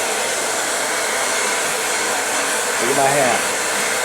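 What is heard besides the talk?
blow dryer blowing hair in a salon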